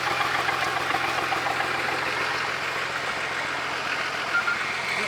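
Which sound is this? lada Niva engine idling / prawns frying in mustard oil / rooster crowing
lada Niva engine idling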